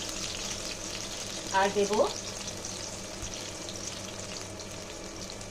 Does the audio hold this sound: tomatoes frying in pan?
yes